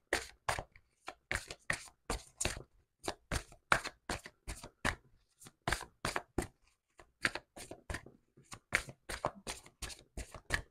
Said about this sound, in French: Je vais prendre deux cartes ici.